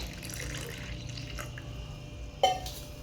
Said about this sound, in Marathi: व्यवस्थित मिक्स झालं की आपण थोडंसं पाणी यामध्ये ॲड करूया